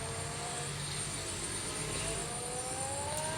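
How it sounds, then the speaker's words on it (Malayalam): A Lamborghini in the video game Indian Theft Auto gives off a steady, smooth engine drone that holds even and fairly quiet throughout, with a faint rising tone toward the end and no one talking. "ലംബോർഗിനിക്കും നല്ല എക്സോസ്റ്റ് ഒക്കെയാണ്"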